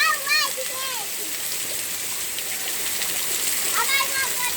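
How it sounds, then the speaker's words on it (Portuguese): People bathe outdoors in heavy rain. Splashing water and a steady downpour hiss continue throughout, with excited voices and shouts breaking in at the start and again near the end. "Banho na chuva é muito bom."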